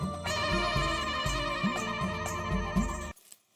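A phone ringtone plays as a call is placed, a steady melodic ring pattern repeating close and loud for about three seconds, then cutting off into quiet.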